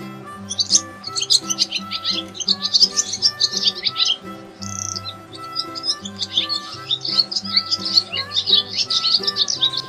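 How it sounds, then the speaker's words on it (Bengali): A dove calls from a tree: busy chirping and twittering birdsong over a steady background of music, continuous and fairly close throughout. "ঘুঘু পাখি ডাকছে গাছে।"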